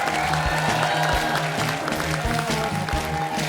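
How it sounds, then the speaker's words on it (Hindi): Studio audience on a Hindi comedy show clapping as a guest is seated, with the applause blended under loud, rhythmic background music that runs steadily throughout. "वो हाथ छोड़ के तालियां बजा सकते हैं"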